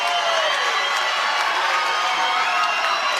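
At an Infliction Muay Thai fight, the crowd keeps up a constant, loud cheer with whoops and shouts and no pause.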